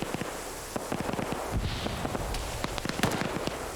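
Rapid gunshots crack out in a shooter video game, a dense irregular string of sharp bangs and pops, some close and loud, over a rumbling background with no talk.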